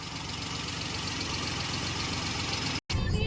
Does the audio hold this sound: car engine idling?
yes